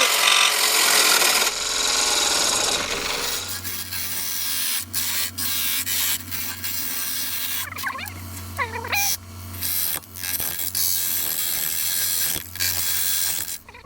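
Skew chisel shearing a spinning wood spindle on a lathe with a ring drive center, giving a steady scraping, rasping cut over the low motor hum, with brief squeaks and pauses in the cutting.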